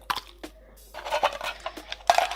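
A titanium pot with a titanium cup nested inside being handled, giving light metallic clinks, taps and scrapes in quick irregular bursts, close and fairly quiet.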